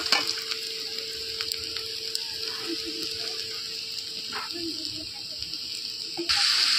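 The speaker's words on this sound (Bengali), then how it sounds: "এবার এই যে ভাজা করা মাছের মাথা, তারপর আলু ভাজা, পেঁয়াজ যা যা আছে এটা দিয়ে দিচ্ছি এর মধ্যে।" Fried fish head, fried potatoes and onion sizzle in spiced oil in a pan, a steady close hiss broken by a few stirring scrapes.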